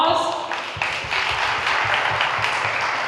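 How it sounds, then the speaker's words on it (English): Audience applause at an African-Caribbean summit, a short burst of clapping from a crowd that fades, with a voice talking over it. "Another round of applause."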